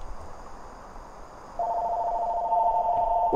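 A mobile phone starts ringing partway through, a steady electronic tone that holds on after a stretch of quiet background hum, near and clear.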